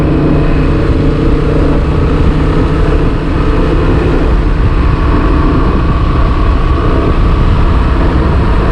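A Honda Transalp motorcycle accelerates hard through its gears using a quick shifter, producing a steady, dense roar of engine and wind that stays loud and unbroken with no gaps between shifts.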